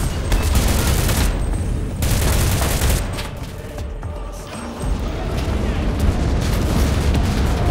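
Heavy gunfire in the video game Enlisted during urban combat, loud dense bursts of shots and booms in close succession with a brief lull midway, then the firing resumes.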